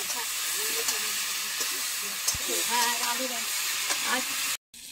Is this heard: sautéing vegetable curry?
yes